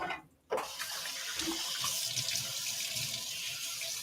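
A kitchen tap turned on for rinsing, water gushing steadily into the sink after a brief quiet start and running loud and close to the end.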